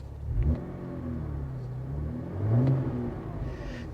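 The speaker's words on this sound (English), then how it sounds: "The exhaust sounds good, but it sounds like a V6." Cadillac ATS-V with a V6 engine revving its exhaust, two short throttle blips rising and falling close by, with a steady engine rumble between them and no talking.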